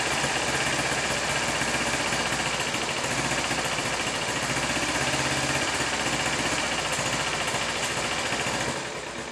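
A 2011 Kawasaki Ninja 250 motorcycle idles steadily up close, a continuous buzzy mechanical drone with a fast even pulse that holds constant for several seconds before easing slightly at the end.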